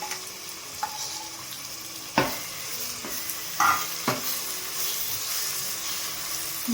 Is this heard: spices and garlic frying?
yes